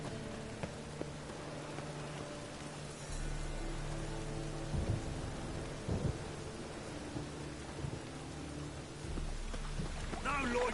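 Rain and rumbling thunder in the video game The Witcher 3 fill the background steadily, with a low drone joining partway through and brief thuds and clatters over it.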